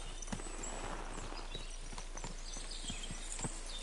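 Horse hooves clip-clop softly at an unhurried walking pace in the video game Kingdom Come Deliverance 2, quiet and somewhat distant over a low background hum.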